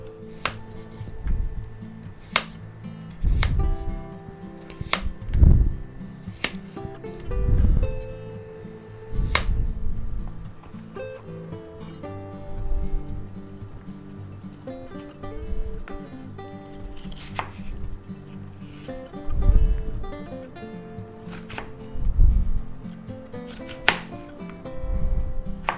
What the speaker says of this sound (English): We just slice them up.